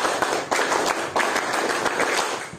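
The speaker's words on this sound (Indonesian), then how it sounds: "Tepuk pramuka" Rhythmic group clapping from a crowd of scouts at a campfire gathering, a chanted clap pattern with sharp, evenly spaced bursts repeating throughout, close and lively.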